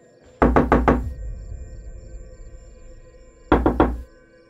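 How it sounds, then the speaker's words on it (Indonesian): Two bursts of rapid knocking on a window, about four knocks each with a pause between, sharp and close in a quiet room, used as a horror story sound effect. "Suara ketukan itu berasal dari jendela yang terletak di sebelah pintu belakang tempat aku mengintip tadi."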